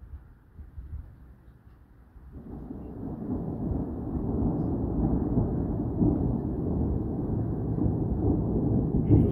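Strong thunderstorm of 12 March 2025, with a deep, sustained thunder roll that swells after a quieter start and rumbles continuously at a loud, steady level through to the end, mixed with low wind and rain noise.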